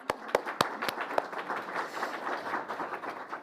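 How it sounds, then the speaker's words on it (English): Applause from the crowd at a public art community investment plan announcement: a few sharp, close claps at the start, then a steady wash of many hands clapping at moderate volume for a few seconds. "Can we give Meg and her team a huge round of applause?"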